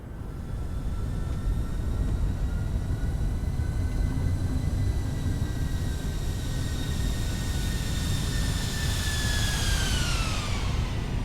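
Reverse thrust from a Boeing 737-800's jet engines on landing at Menorca in Microsoft Flight Simulator: a loud, steady roar with a high whine that holds, then sweeps down as the engines spool back near the end.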